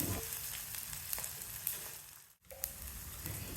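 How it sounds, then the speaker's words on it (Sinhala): Spices and goraka sizzle steadily in hot oil in a pan for a village-style lake fish curry, a close, constant crackling fry with occasional stirring scrapes and a brief pause. "දැන් මේ ටිකත් හොඳට කලවම් කරලා බැද ගන්න."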